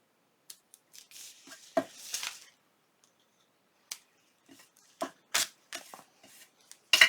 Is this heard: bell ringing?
no